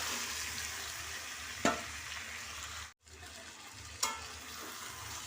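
Mutton goes into spice masala frying in oil for a red goat curry, a soft, steady sizzle broken by two sharp clunks from the spoon and a brief drop in sound.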